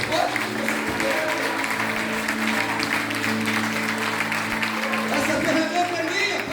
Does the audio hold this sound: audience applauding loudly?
yes